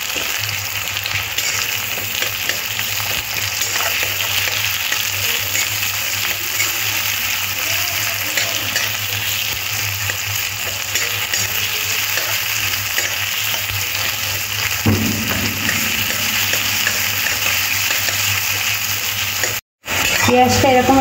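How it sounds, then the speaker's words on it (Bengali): Chopped onions sizzling steadily in hot oil in a pan while being stirred for a Hyderabadi-style chicken curry, a continuous close frying hiss with occasional scraping, a short break near the end. "পেঁয়াজটা একটু নাড়াচাড়া করে একটু ভেজে নিতে হবে।"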